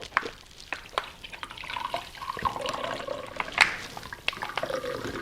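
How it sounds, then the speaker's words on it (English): Water from a squeezed Sawyer Squeeze water filter trickles and splashes into a cup in uneven spurts, close by, with small drips and gurgles rising and falling. "I'm just going to fill up a cup of water here by rolling it."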